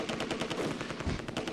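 Gunfire in the World War II strategy game Close Combat II: dense, continuous rattling bursts of small-arms and machine-gun fire with a heavy thud near the end, steady and loud throughout, no voices.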